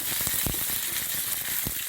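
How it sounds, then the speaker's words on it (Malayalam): Hot oil sizzles steadily up close, with a few sharp pops and crackles scattered through as curry leaves and green chillies splutter in the pan. "വേപ്പല ചെറിയ കാരണം ഇട്ട പൊട്ടി പൊരിക്കുക"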